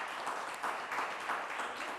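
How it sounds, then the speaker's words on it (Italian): Audience applause at a live beauty pageant show (Miss Sorriso), steady dense clapping filling the whole moment with no voices over it. "facciamo un applauso anche alla regia perché insomma la meritano"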